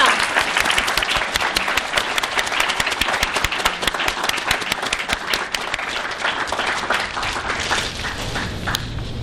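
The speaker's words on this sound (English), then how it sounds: "let's give a big round of applause for all these teachers" A university graduation audience gives sustained applause for teachers, librarians and staff, dense clapping from a large crowd in a hall that stays strong for several seconds before thinning slightly.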